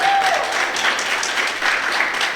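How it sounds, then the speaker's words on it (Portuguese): A church congregation applauds during a worship service, with dense, steady clapping that holds at an even level across the whole stretch and no voices above it. "Aplauda ao Senhor Jesus."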